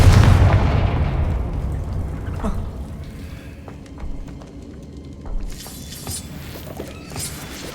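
A Confringo blasting spell goes off in the Hogwarts Legacy video game, a loud booming explosion at the start that fades into crackling debris, with a few smaller pops and bursts following.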